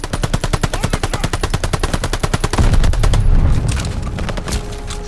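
Rapid automatic gunfire in the Call of Duty Vanguard campaign mission Operation Tonga at Merville, France, 1944: loud, dense bursts of machine-gun fire that give way to a heavier, booming clatter of shots.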